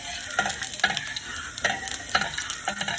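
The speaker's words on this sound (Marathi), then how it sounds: "थोडासा तेल असं चमच्याने थोडासा परतून घेणार आहे" Oil sizzles on a flat iron tawa while a spoon stirs and sautés for a halwa fish fry, with a constant frying hiss and repeated rhythmic scrapes and clinks close by.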